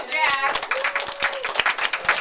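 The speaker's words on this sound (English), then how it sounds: "Let's give her a round of applause." A short patter of clapping from a small class audience, uneven individual hand claps mixed with a brief spoken thanks over them.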